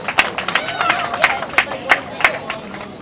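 Scattered audience clapping at a surfing championship awards ceremony, with sparse individual claps in an uneven rhythm over a low crowd murmur.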